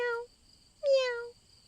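A voice imitating a kitten's meows: two clear, tonal mews, a short one at the start and a longer, louder one a moment later, with near-silence between.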